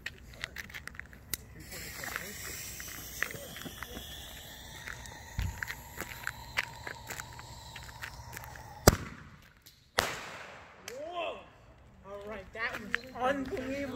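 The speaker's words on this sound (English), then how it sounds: "And these are mini mortars." Mini mortar fireworks launch and burst outdoors, producing a series of sharp pops and crackles, with people talking and reacting throughout.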